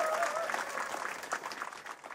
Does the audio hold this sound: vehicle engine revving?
no